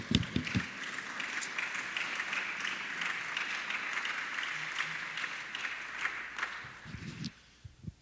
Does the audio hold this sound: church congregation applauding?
yes